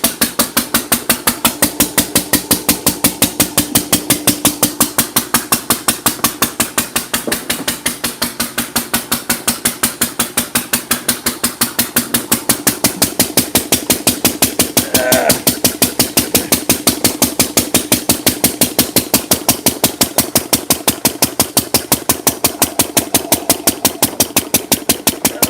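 An engine started after sitting unused for over a year runs at a fast, even idle with a dense mechanical rattle and knock, loud and close, without voices.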